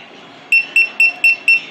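An electronic key finder alarm gives five short, shrill beeps at an even, rapid pace after a brief quiet start; each beep is loud and close.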